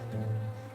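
Bees buzz close by on a balcony in Sofia, a brief low steady drone that swells and fades.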